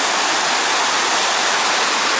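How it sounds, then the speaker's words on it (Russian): Two mountain rivers in Chechnya meet with a loud, steady roar of rushing water that fills the whole clip without a break. "Тут вот две реки уже соединяются вместе."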